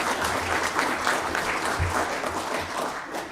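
Applause from the audience at a municipal council session in Verlinghem as newly installed council members are honored, steady dense clapping filling the room without a break.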